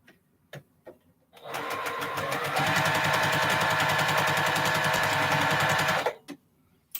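A sewing machine stitches 25-patch quilt blocks in one long, steady, fast run of rapid needle clatter, close and loud, with short pauses before and after.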